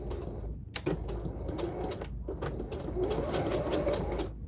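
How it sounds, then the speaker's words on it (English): A sewing machine runs stitching a narrow 1/8-inch seam on a tote bag, a close mechanical whirr broken by short pauses and rapid needle ticks. "I'm gonna sew this with an 1/8 of an inch seam allowance, just very small"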